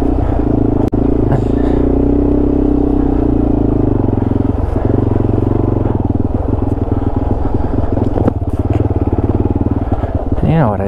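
A Yamaha TW200 dual-sport motorcycle rumbles steadily along a dirt trail near Colorado Springs, its engine loud and close throughout with occasional rattles and scrapes, while a rider talks over it.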